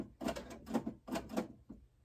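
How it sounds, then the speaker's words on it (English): A home printer starts up nearby with a series of rhythmic mechanical whirring bursts, four strong pulses and a weaker fifth, fairly quiet with no talking. "You hear my printer starting up over here."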